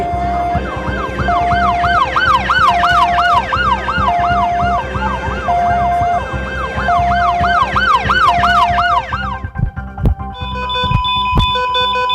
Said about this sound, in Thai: เรียกรถพยาบาล